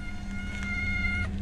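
Cat meowing indoors, one drawn-out tonal call near and clear, rising then trailing off, with no voices.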